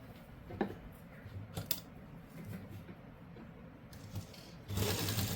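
Sewing machine stitching a suit seam, faint light ticks and taps at first, then the motor whirring up louder and steady near the end.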